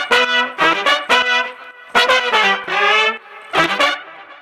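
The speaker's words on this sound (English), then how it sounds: "So when you hear all the horns together," Synthesized horn section playing a four-part harmonized brass riff for an Afro House track, bright stacked chords in short bursts with pauses, loud and alone with no voices.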